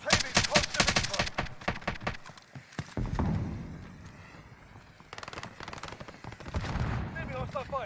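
Rapid bursts of video game gunfire crackle in quick volleys, loud and close, with gaps of rumbling explosion and further scattered shots, while game voices speak in between.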